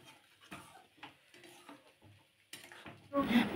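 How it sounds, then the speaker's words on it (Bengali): Prawn malai curry being stirred in a pan, a few soft scraping strokes and light clinks that build to a louder, sizzling burst near the end, with no talk. "ভালো করে নাড়াচাড়া করে কষিয়ে নিয়ে"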